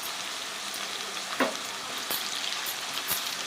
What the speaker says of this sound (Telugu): ఇవి బాగా వేగిపోయినండి. ఆయిల్ పైకి తేలింది.